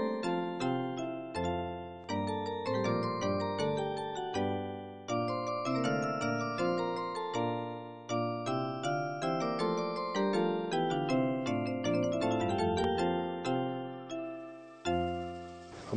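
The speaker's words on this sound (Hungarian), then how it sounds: "Hát a toronyóra, a zenélő berendezés, a harangok." A set of town hall tower bells plays a tuned melody from a musical chime mechanism, bright ringing strikes in a steady rhythm with long overlapping decays, clear and alone without talk.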